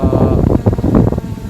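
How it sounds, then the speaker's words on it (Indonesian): Strong outdoor wind buffeting the microphone during an SJRC F11 Pro 4K drone flight, a loud continuous low rumble with gusty swells throughout and no talk. "Padahal ini kencang sekali angin di sini."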